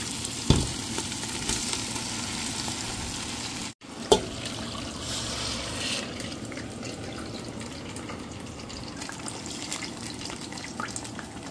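Mung beans hit a hot frying pan with pork, a sudden splash and burst of sizzling after a brief pause, then a steady loud frying hiss carrying on alone.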